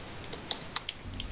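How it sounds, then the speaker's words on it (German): Computer keyboard typing by a player during an Elsword game session: a short run of about seven sharp, separate key clicks at an uneven pace, fairly close and alone with no talk. "Der Daniel ganz konzentriert am Schreiben, man hört's, ne? Klick, klick, klick, klick, klick, klick"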